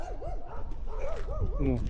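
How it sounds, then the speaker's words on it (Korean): Several dogs kept at a rural school bark and yip in rapid, whiny bursts, some rising and falling almost like howls, fairly close and continuous, with a person talking underneath. "무슨 학교에가 강아지를 이렇게 많이 키우죠"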